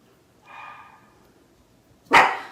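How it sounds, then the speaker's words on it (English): Dogs barking indoors, a muffled bark early on followed by a sharper, louder bark near the end, with quiet room tone between them and no speech. "Of course they're gonna bark right now."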